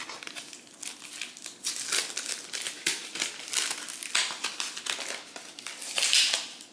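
Packing tape being peeled off the parts of a Sony PS-LX310BT turntable during unboxing and setup, giving a steady run of close crinkling and tearing crackles that come in uneven bursts for several seconds, with no talk.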